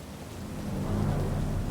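Heavy rain in the video game Cyberpunk 2077 pours steadily with a low rumbling undertone, dense and continuous, swelling slightly louder toward the end with no voices.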